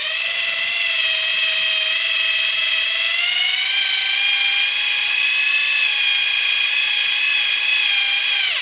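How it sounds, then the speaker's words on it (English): A high-pitched electric drill whines continuously for several seconds while running in reverse to wind wire, its pitch rising slightly midway and holding steady, close and loud. "You put your drill in reverse and you begin your winding."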